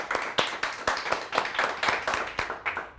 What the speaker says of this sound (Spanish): Queremos darle un aplauso a nuestra anfitriona de hoy, a Mary.